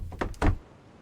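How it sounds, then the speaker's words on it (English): A door is pulled open with two quick, close thuds and a brief creaking scrape, then a short quiet tail. "Second I open this door, it's gonna be there."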